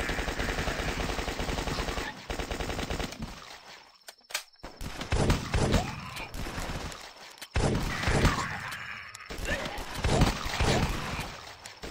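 Sustained gunfire in the game The Last Stand, with repeated loud bursts of rifle and machine-gun fire broken by short pauses, dense and close throughout with a voice faintly underneath.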